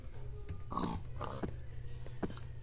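Pigs in the video game Minecraft grunt and oink in a few short bursts over a steady low game hum, with no talk.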